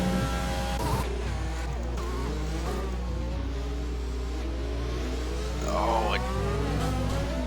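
Several race car engines in a sim racing game at Abu Dhabi, running nose to tail with steady high whines and shifting revs, a continuous near drone of motors, with a commentator's voice over it.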